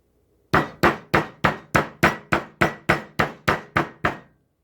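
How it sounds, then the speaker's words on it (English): A dozen evenly spaced, sharp hammer blows strike a pork spare rib, loud and close, with no voices. "I'm gonna take this pork spare rib and I'm gonna whack it with this hammer."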